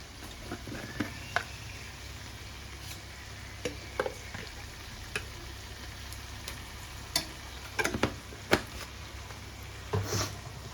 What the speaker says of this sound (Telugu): ఇప్పుడు ఇందులోనే అల్లం వెల్లుల్లి పేస్ట్ కూడా వేసేస్తా.